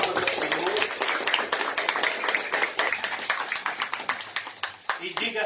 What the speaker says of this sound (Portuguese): Salve de palmas ao Senhor.